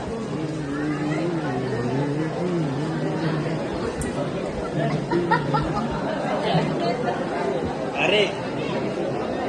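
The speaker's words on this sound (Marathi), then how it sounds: "लय गर्दी आहे रे." Crowd chatter fills a busy temple at Ekvira near Lonavala: dense overlapping voices and murmuring babble, with occasional laughter, close around the listener. One nearby person also calls out briefly.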